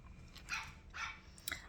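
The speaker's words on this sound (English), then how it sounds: "Uh-oh, that puppy barks at the cats." A puppy barks at cats indoors in a few short, faint yips spread across the moment, with quiet room noise between them and no talking.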